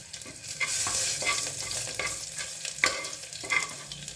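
Garlic and turmeric powder frying in hot oil in a pan for sambar, a steady soft sizzle broken by repeated scraping strokes of a spoon as the mixture is stirred.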